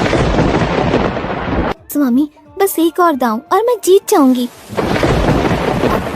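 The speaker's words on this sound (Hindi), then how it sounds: "ये बिना मौसम की गरजती हुई बारिश हमें क्या संकेत देती है?" Loud thunder rumbles with heavy unseasonal rain pouring at the start and end, while someone speaks in the quiet middle stretch.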